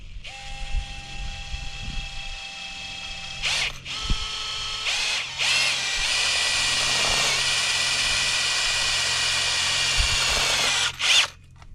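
A power drill drives self-tap screws into a gate: a high whirring spin with brief stops and restarts, then a long sustained run ending in a short ratcheting clutch burst, close and loud.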